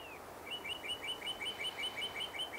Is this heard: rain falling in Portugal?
no